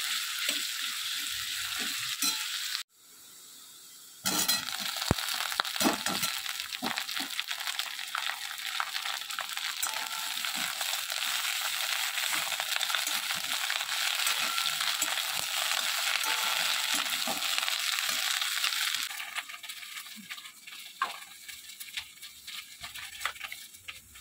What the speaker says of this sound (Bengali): আগে একটু ভেজে নিই আলুটা।